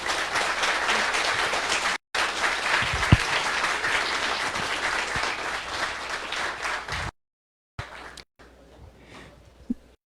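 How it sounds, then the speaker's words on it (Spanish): An audience at a university talk breaks into sustained, dense applause that holds steady for several seconds, cuts out, then returns in a few thinner, scattered bursts. "acompáñenme a darle un muy fuerte aplauso"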